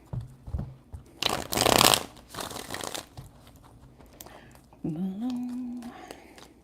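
Tarot cards are shuffled briefly with a crisp riffling burst, followed by softer shuffling and a low murmur of voice.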